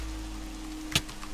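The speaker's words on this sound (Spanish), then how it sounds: "Bueno, la lluvia. Va a llover." Rain falling in a Minecraft world: a soft, steady hiss of patter with one brief sharp tap partway through.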